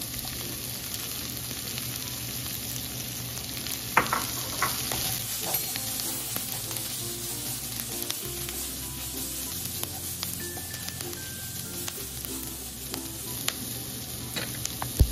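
Shrimp stir-fried for pancit miki guisado, with a steady close sizzle and the scrape and clatter of stirring in the pan, no talk.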